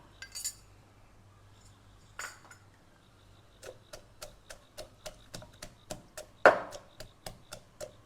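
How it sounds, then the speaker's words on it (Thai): Chilies are pounded in a mortar with a pestle in a steady run of sharp, regular knocks, quiet at first and then repeated close up, with a few louder clinks. "อันนี้เขาก็สิมาโขกกันก่อนเนาะโขกบักพริกกันก่อน"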